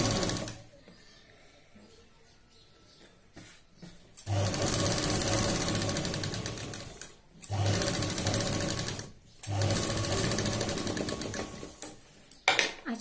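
A sewing machine stitches lining onto sleeve fabric, running in three sustained bursts of steady mechanical whirring after a quiet start, with short pauses between runs, close and loud.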